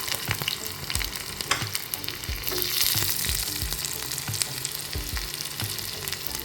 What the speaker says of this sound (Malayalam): കടുക് പൊട്ടിയതിന് നമുക്ക് കുഞ്ഞുള്ളി വെളുത്തുള്ളിയിൽ ഇട്ട് കൊടുക്കാം